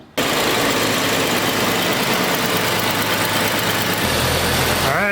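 Jeep Cherokee 4.0 engine starting after a moment of quiet, then running at a steady, loud idle close by, with a faint whine near the end.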